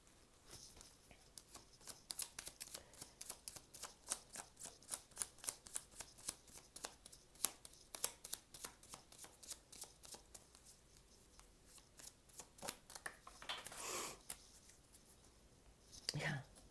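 Gypsy Witch fortune-telling cards being shuffled by hand, a steady run of crisp riffling flicks and soft card slaps that fills the stretch, fairly close and quiet, with a brief louder rustle near the end.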